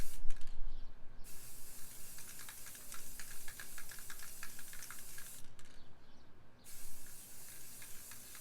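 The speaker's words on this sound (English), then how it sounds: "now I'm just going to start spray painting my cup white" An aerosol can of white spray paint hisses steadily onto a tumbler cup in two long sprays with a short pause between, over some light rattling and clicking.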